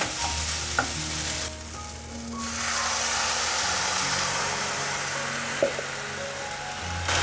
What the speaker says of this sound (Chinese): 把调味料都炒均匀后，现在放入300cc 的水。